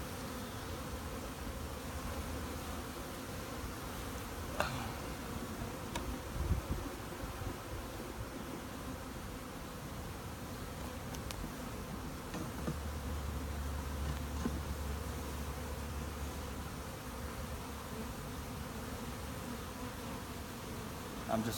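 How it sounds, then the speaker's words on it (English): Honeybees buzz steadily around a hive frame in a continuous, dense hum that lasts over twenty seconds, close up, with occasional soft rustling and handling bumps and no talking. "it could just be bees festooning"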